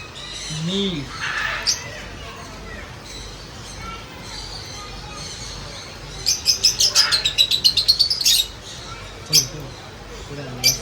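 Birds chirp and tweet in a quick run of bright, repeated calls, with a few scattered single chirps before and after, fairly close over a quiet background.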